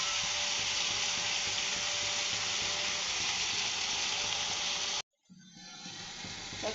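Jute leaves dropped into a hot pan with garlic and fried shrimp, giving a loud, continuous sizzle that cuts out suddenly, then builds back into quieter frying.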